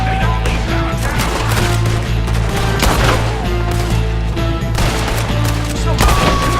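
Rapid gunfire rings out in a Red Dead Redemption 2 shootout, dense overlapping shots and bursts crackling loudly and continuously, with faint shouting mixed in.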